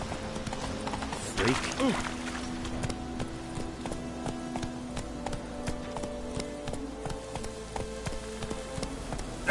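A horse gallops in The Witcher video game, its hooves clip-clopping in a steady rapid rhythm throughout, with a voice speaking briefly over the hoofbeats and game sounds.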